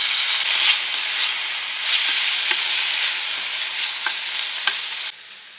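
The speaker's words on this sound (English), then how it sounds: "Let's start with some peppers and onions in some oil on the stove top. Let's get that sauteed up." Peppers and onions sauté in oil on a stovetop with a loud, close, continuous sizzle and hiss, punctuated by a few light stirring clicks before the noise drops near the end.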